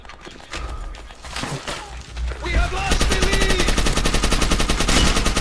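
Rapid gunfire crackles in a Call of Duty: World at War match, bursts of shots building into dense, fast repeating fire over game noise, with a player talking over it.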